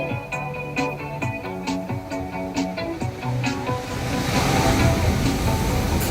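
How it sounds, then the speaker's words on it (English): Ocean surf breaking on the shore at Malibu, a steady wash of crashing waves that swells louder toward the end, with music playing underneath in the first half. "Wow, you hear those waves crashing?"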